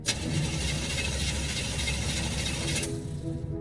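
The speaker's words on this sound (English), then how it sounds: "Start, you blasted car!" An old car engine in the video game Foolish Mortals cranks with a rapid ratcheting churn for about three seconds, loud and close, then cuts out.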